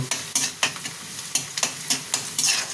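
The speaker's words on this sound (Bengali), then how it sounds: "পেঁয়াজটা একটু ভাজা হয়ে যাক" Onions sizzle softly in a pan while a utensil stirs and scrapes in regular strokes, close by and fairly quiet.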